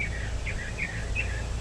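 Outdoors, birds give a few thin, high chirps and short song phrases over a low background rumble. The calls are moderately close but soft, and no one speaks.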